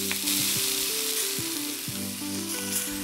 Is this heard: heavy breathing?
no